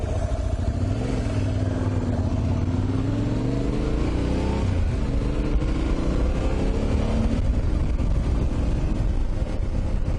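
Yamaha Tenere 700 motorcycle being ridden, heard close and loud over constant wind rush, with the engine note rising and shifting through gears as it accelerates.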